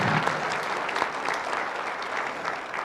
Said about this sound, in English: let's just give him a round of applause to let him know we're glad that he is here